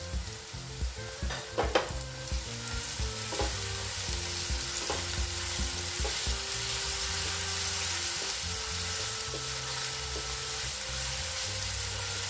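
Onion slices, green chili pieces and finely chopped cabbage for veg Manchurian are stir-fried in a hot pan, with a steady sizzle and a run of scraping, clattering stirs that are sharpest near the start.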